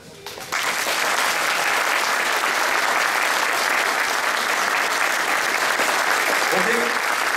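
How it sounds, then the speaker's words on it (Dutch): After a brief quieter moment, an audience at a February 2011 concert in Casteren bursts into loud, sustained applause for the orchestra, the clapping thick and even, with a voice briefly audible through it. "dan geven we met z'n allen een heel erg hard applaus aan ons orkest"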